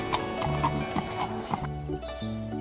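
Horse hooves clip-clop in an even rhythm, the steps of a trader's horse walking through a village, close and clear over soft background music with no talk.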